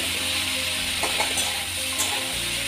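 Food frying and sizzling in a pan, turned until reddish-browned, with steady broadband sizzle, a few stirring scrapes in the middle and a low hum underneath; no talking.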